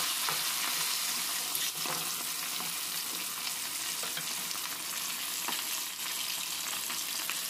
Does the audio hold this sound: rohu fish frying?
yes